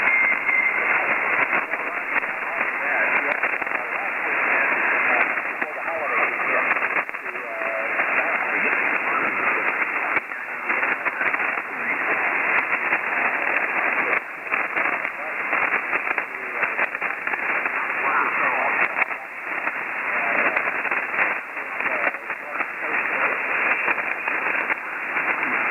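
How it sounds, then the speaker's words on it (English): A weak amateur radio signal from a portable station sits right at the noise floor, almost buried in a continuous, band-limited hiss with faint voice fragments drifting in and out. "Chris, your band has just kind of dropped there. You're right at the noise level"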